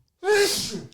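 A single sharp sneeze bursts out close by, loud and sudden after a moment of silence, trailing off quickly.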